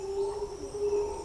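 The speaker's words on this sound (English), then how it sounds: "But at dawn, we have howler monkeys" Distant howler monkeys roaring at dawn in a tropical forest, a sustained droning howl rising and falling over a low background hum.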